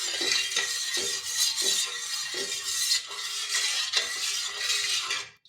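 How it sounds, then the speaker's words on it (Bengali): A spoon stirring a cornflour and liquid mixture in a bowl, with repeated rhythmic scraping and swishing strokes close by, steady and fairly soft, no voices. "তাই একটু ভালোভাবে নেড়ে নিচ্ছি।"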